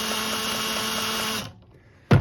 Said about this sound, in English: As long as my drill still fits on there.